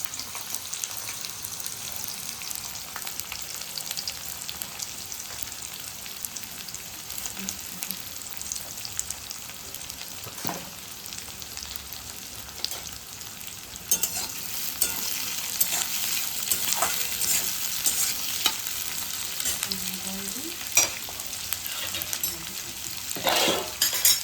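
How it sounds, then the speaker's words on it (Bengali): Meat masala being stir-fried in a pan while cooking goat trotters, with a steady sizzle and frying hiss throughout and occasional scrapes of a spoon against the pan, getting a little louder toward the end. "মাংসের মশলাটা কষাতে পারতাম।"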